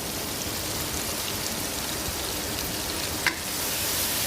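Tomato and green chilies fry in a pan, giving a steady, even sizzle like light rain throughout, close and moderately loud, with one brief clink near the end and no talking.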